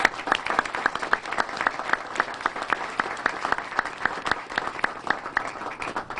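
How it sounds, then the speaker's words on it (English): Factory workers at the Hickey Freeman clothing plant are applauded in a sustained round of clapping from a sizable group, steady and lively throughout with sharp individual claps standing out from the mass. "Let's give all of you a round of applause."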